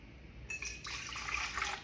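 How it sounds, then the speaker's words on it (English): A cup of water is poured into a mixing bowl for homemade pretzel bite dough, giving a short, steady splash and trickle heard alone, up close and fairly quiet. "the first thing we're gonna do is add a cup of water"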